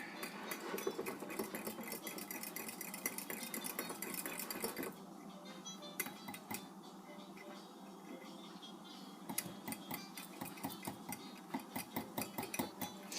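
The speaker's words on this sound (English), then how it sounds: "So now I'm just going to stir this around in here." Chicken being stirred in a bowl during kosher fried chicken preparation: quick, repeated scraping and clinking strokes, close and fairly quiet, with a brief pause midway before the rhythmic stirring resumes.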